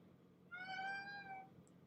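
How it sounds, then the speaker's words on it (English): A cat meows outside a door, a single drawn-out tonal mew lasting about a second, slightly muffled and moderately distant against a quiet room hum. "There's a cat meowing outside my door."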